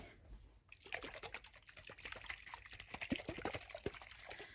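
Liquid sloshes and trickles inside a whole coconut as it is tipped and shaken, faint and close, a rapid run of small splashes lasting a few seconds.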